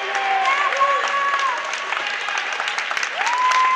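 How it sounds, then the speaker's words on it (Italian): Crowd applause at an Imola handball match between Romagna and Carpi in Serie A Gold, steady sustained clapping across the arena with crowd noise and a commentator talking over it. "Gli applausi del pubblico di Imola"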